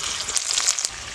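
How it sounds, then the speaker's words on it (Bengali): Spice paste fries in a pan for a cabbage dish, giving a steady close-up sizzle and crackle with small popping bursts and no talking. "মশলাটা একটু ভালো করে ভাজতে হবে।"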